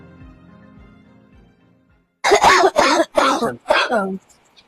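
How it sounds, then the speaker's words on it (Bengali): A woman in a home coughs in four loud, close, harsh bursts in quick succession after a short stretch of quieter background sound. "দেখ আমার কাশিটা বন্ধ হচ্ছে না"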